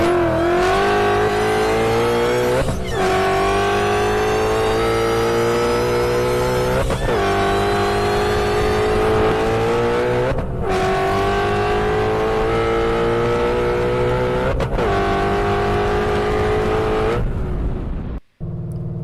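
Tuned 2026 Shelby GT500 engine revving hard and loud in repeated sweeping pulls, each rise ending in a sharp drop at roughly three-second intervals, dominating throughout before cutting off abruptly near the end.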